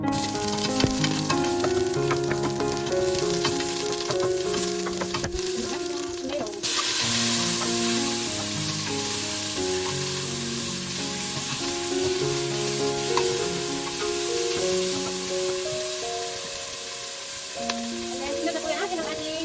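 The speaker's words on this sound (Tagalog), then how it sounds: "Init na yung ating mantika. Lagyan na natin yung onion." Onion sautéing in hot oil for salmon belly sinigang, a steady close sizzle and crackle of frying that runs continuously, with light stirring and a spoon scraping the pan now and then.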